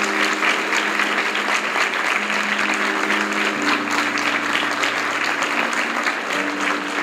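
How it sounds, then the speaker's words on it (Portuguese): Church congregation applauding together, steady dense clapping filling the whole stretch at a consistent loud level, with faint voices and a held tone underneath. "aplauda Ele nesse momento."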